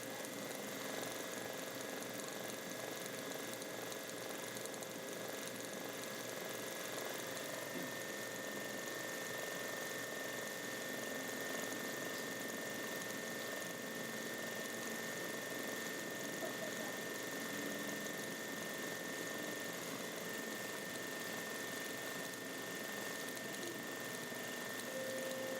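A sewing machine does free-motion thread sketching, stitching shading lines into fabric, with a steady, even whir that runs without a break from start to finish. It sits fairly faint and close, with no talking.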